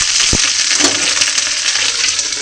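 Okra (bhindi) frying in a pan, a steady close sizzle with a brief thump early on and faint clinks of stirring, no talk.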